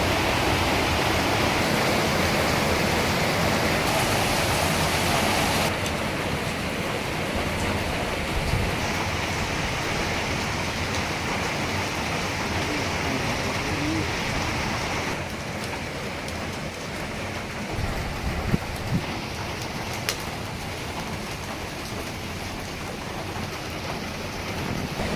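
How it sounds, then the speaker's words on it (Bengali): Heavy rain pours steadily and loudly outdoors during cooking, a dense, continuous hiss of water that never lets up across the whole stretch, with no one speaking. "প্রচুর পরিমাণে বৃষ্টি হইতেছে।"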